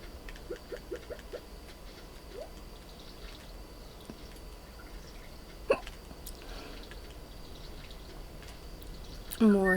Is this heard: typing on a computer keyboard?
no